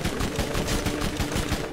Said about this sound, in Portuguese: tem alguém aqui me dando tiro aqui.